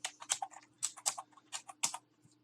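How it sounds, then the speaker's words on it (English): Clicks of typing on a computer keyboard, a short run of a few quick keystrokes in uneven bursts, close and fairly quiet, with no talk over them. "we're going to type localhost"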